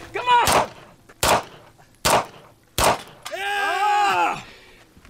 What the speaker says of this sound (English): Get 1 hit on the steel in the middle. 2 hits on the second steel.